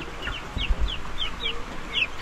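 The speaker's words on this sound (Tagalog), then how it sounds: "Ito na rin mga kanaypi yung mga manok ko na nandito sa brooder pen na may sakit, may coryza" Sick chickens with coryza in a brooder pen give a run of short, rising clucks and chirps, close and fairly clear over low background noise and a few soft thumps.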